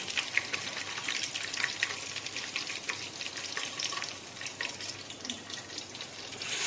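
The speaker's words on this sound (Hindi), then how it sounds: "लहसुन को भून लिया" Steady sizzling and crackling of garlic frying in a pan, with faint scraping and stirring noises throughout, close and moderately quiet.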